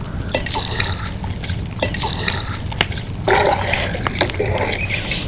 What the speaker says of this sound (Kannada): ಇದಕ್ಕೆ ಎಷ್ಟು ನೀರು ಬೇಕೋ ಅಷ್ಟು ನೀರು ಹಾಕೋಣ